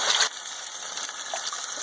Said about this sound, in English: I'm putting in some water right now.